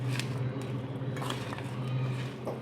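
A spoon stirs and scrapes through a small batch of black salt and carom seeds for a ginger pickle in a home kitchen, giving soft repeated clinks and scrapes against the dish over a steady low background hum.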